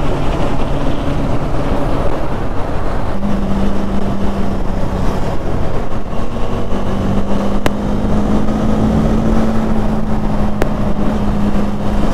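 A motorcycle engine runs continuously while riding, giving a steady low rumble mixed with strong wind buffeting on the helmet-mounted GoPro microphone, and a faint humming tone rises partway through.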